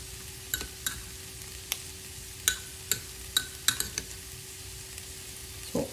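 Al pastor meat sizzles steadily in a pan while a utensil stirs it, with several sharp scraping clicks scattered over the frying hiss and no voices.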